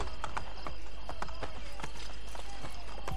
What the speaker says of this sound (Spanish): En teoría vamos más rápido a caballo